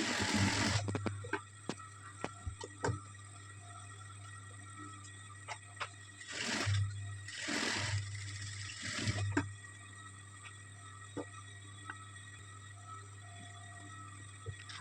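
A sewing machine stitches a churidar in short bursts, with a steady low motor hum, scattered clicks and two louder whirring runs in the middle, fairly faint and close.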